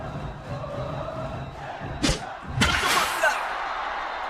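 A sharp crack of bat on ball, followed by a rising crowd roar under constant commentary.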